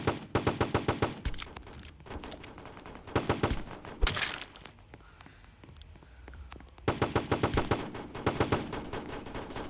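Bursts of rapid automatic gunfire in a shooting video game, loud clustered volleys separated by a quieter stretch and a single sharp crack, with repeated rattling shots throughout.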